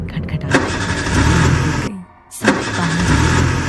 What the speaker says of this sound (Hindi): अचानक कार का इंजन खटखटा,